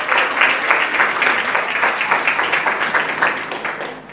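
Church congregation applauding together, a steady dense patter of many hands clapping at close range that continues for about four seconds without a break.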